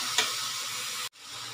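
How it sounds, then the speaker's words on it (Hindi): Chow mein with sauce and white pepper fries on full flame, giving a loud, close, continuous sizzle with stirring, then a brief break before the hiss resumes more quietly, with no talk. "इसमें सॉस भी डाल के इसको तकरीबन 2 मिनट तक इसको फ्राई करेंगे।"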